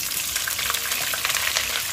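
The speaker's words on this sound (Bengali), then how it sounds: "এখন এতে দিয়ে দিব পেঁয়াজ কুচি।" Chopped onion hisses and crackles as it fries in hot oil with whole cumin and cardamom, a steady close sizzle with bright spattering pops throughout.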